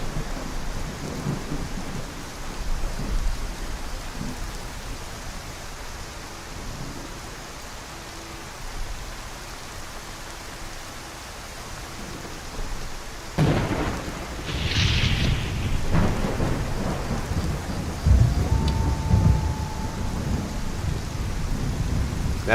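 Steady rain hisses in Skyrim while thunder rolls in with a deep rumble partway through, the downpour continuing loud and constant with no voices.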